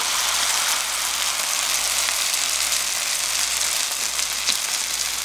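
Battered crown daisy dropped into hot oil for Korean mixed tempura, giving a steady loud hiss and crackle of frying that holds evenly throughout, close up with no speech.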